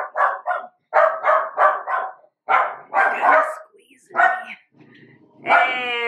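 Several puppies bark and yip in quick excited bursts, close by, with pauses between volleys and a higher whining yelp at the end, inside a home kitchen around dinner time.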